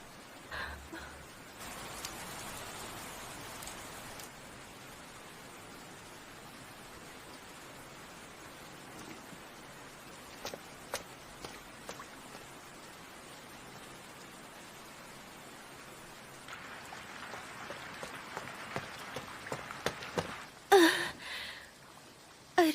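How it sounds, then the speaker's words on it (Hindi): Heavy rain falls with a steady, broad hiss for the entire stretch, and short louder bursts and splashes near the end. Faint breaths or gasps come now and then, but there is no clear speech. "फिर से बारिश शुरू हो गई है।"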